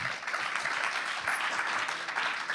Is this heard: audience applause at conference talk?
yes